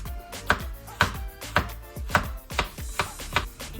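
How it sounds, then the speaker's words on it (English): A knife slices carrot and cabbage thinly on a cutting board, giving sharp, evenly spaced chops about every half second, close and clear with no talking. "I have some cabbage. I'm gonna slice them up pretty thin and wash them."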